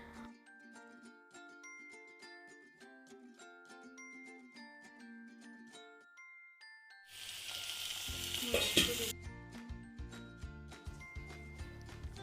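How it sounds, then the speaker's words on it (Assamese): Pointed gourd (potol) pieces dropped into hot oil in a pan, starting a loud, steady sizzle that swells after a soft stretch of tinkling music and a few clinks. "এতিয়া মই পটলখিনি অলপমান ভাজি ল'ম"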